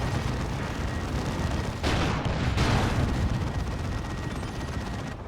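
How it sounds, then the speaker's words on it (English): Assault cannons roar in a Dawn of War 2 battle, a dense, continuous barrage of rapid gunfire with a brief louder surge in the middle and no pause throughout. "Double assault cannons is nasty."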